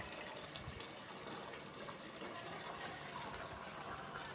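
Hot water poured into a pot of chicken biryani with soaked rice, oil and curd gravy, a steady close pouring and gushing splash that runs on without pause from start to finish.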